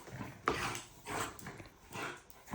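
A small dog gives several soft whimpers and yips in quick succession, fairly close but quiet, with short pauses between them.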